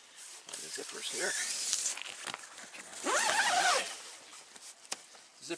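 Zippers on a pitched camping tent are pulled open in long, rasping strokes, with a louder, close zip near the middle. Softer rustling of the fabric fills the gaps.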